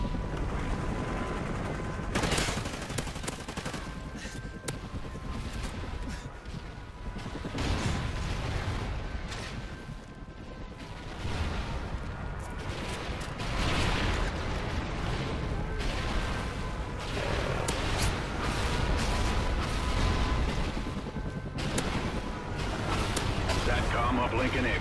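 A mortar salvo strike hits in Call of Duty Ghosts, a dense barrage of rapid explosive cracks and gunfire-like bursts rolling on continuously over a droning tone, with voices talking through it.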